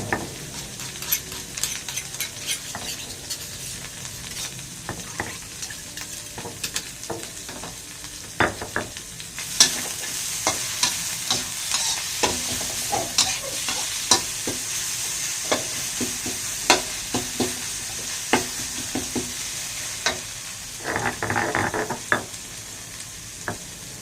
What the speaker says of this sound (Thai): ผัดพริกแกงพอหอมแล้วก็ใส่น้ำน้ำงคุกได้เลย